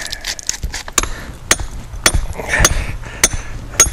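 Hammer striking rock with a chisel while digging for crystals, sharp metallic blows in an irregular rhythm, close and loud, repeated about eight times over a few seconds with no talking.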